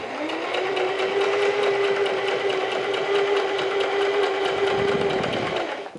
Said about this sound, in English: press your foot down, needle down, and again, this is a nice straight seam.